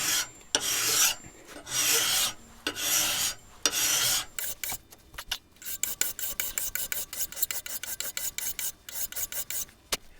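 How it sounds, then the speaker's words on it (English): A metal file rasps across a wood lathe tool rest, first in several long, even scraping strokes, then in a quick series of short, rhythmic rasps, close and clear with no talking. "make sure you're filing evenly is to simply move the file all the way across the tool rest for every stroke"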